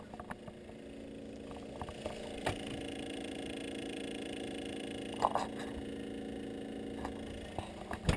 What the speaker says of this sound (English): That is the sound of my current computer, which is obviously not a healthy sound at all